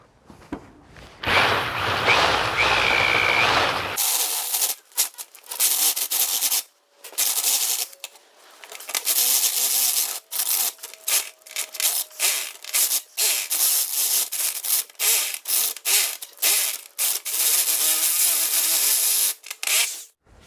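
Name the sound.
drilling a drain hole in steel with a step bit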